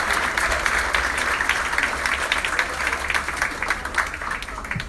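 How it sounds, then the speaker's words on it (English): A crowd at an anniversary celebration applauds with steady, dense clapping that carries on for several seconds, fairly close and even in loudness. "please give them all a round of applause."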